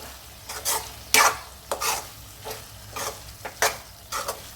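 Ridge gourd curry with lots of coriander stirred in a pan on low heat, a spoon scraping in repeated close strokes over a soft steady sizzle, with no voices.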